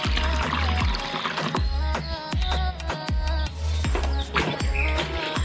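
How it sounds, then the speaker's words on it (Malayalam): Water pours into a scrubbed, washed tub for a guppy pond, a continuous gushing splash that surges in repeated pulses, loud and close with no talking. "നമ്മളപ്പോൾ പാത്രം ശരിക്കും തേച്ച് കഴുകിയിട്ടാണ് വെള്ളം ഒഴിക്കുന്നത്."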